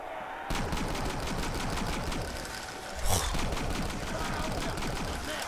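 Assault rifle fire in a custom-map zombie video game: a steady, rapid stream of loud automatic shots continues throughout, with one heavier burst midway.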